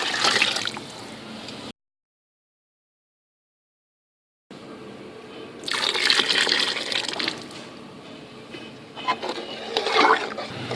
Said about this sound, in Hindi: दो प्याले हमारे चावल हैं और 4 प्याले हम ये वाले पानी डालेंगे।